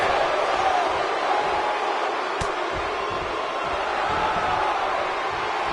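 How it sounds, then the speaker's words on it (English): A large wrestling arena crowd in WWE 2K19 roars continuously, a dense wash of cheering and noise that stays loud and steady throughout. "I don't remember the last time I heard a more passionate crowd than the one we have here tonight."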